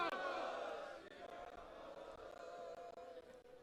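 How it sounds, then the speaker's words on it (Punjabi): A Sikh congregation at a memorial ceremony for Parkash Singh Badal roars a jaikara in response to "Bole So Nihal", a loud massed crowd shout that swells at once and then slowly fades. "ਹੁਣ ਇੱਕ ਜਕਾਰਾ ਜੋ ਕੋਈ ਸਿੰਘ ਸਾਹਿਬ ਨੇ ਕਿਹਾ ਪੂਰੇ ਪੰਜਾਬ 'ਚ ਆਵਾਜ਼ ਆਣੀ ਚਾਹੀਦੀ ਆ ਬੋਲੇ ਸੋ ਨਿਹਾਲ"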